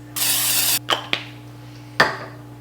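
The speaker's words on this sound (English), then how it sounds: "I'm gonna go ahead and spray them down with cooking spray just because I don't want anything to stick." Cooking spray hisses from an aerosol can onto crock pot liners, one long close burst followed by several short spritzes, loud against a steady low background hum.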